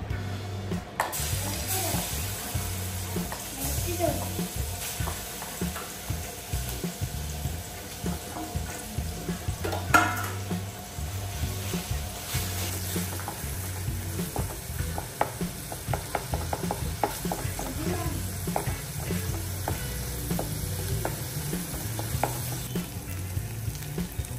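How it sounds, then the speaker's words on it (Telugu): Marinated prawn pieces frying in melted ghee in a pan, a dense continuous sizzle with stirring scrapes and occasional clatter, close and steady with no speech. "ఇప్పుడు ఇందులోకి మ్యారినేట్ చేసిన ప్రాన్స్ పీసెస్ వేసేసుకుందాం"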